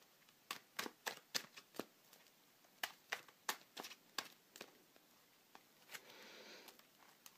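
Playing cards are shuffled up close: a quick series of crisp snapping taps, then a brief soft riffle, in a quiet room.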